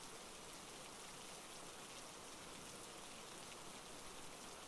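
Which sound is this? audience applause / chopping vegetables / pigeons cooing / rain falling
rain falling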